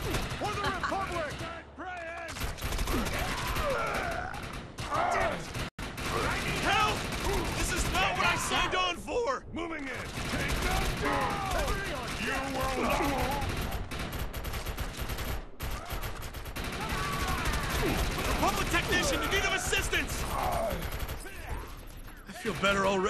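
Sustained gunfire in the Defiance video game on Xbox 360, dense bursts and volleys rattling almost continuously, with shouted voices over the combat.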